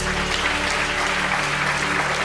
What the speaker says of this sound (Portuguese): dê uma forte salva de palmas ao Senhor Jesus.